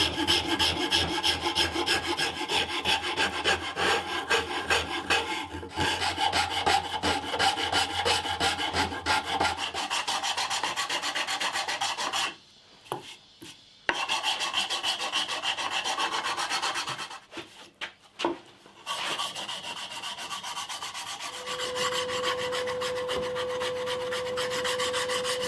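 A wooden guitar body made from fence boards being sanded by hand, steady rasping strokes that run loud and continuous for long stretches, broken by a few brief pauses.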